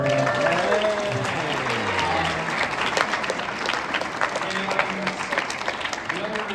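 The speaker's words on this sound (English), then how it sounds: "If you guys do want to give her a round of applause" An audience at a school meeting claps for a teacher's 53rd wedding anniversary, a continuous wash of hands clapping that persists for several seconds while voices and talk carry over it.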